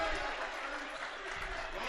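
Crowd at a college men's basketball game, COD versus MATC, cheering and applauding steadily after a made three-pointer, a dense, loud wash of noise with no clear breaks.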